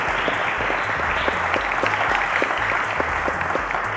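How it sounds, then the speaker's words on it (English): A studio audience at a televised quiz competition claps for a contestant, steady dense applause with a low hum underneath, continuing evenly for about four seconds. "A round of applause to Emmanuel for making it this far."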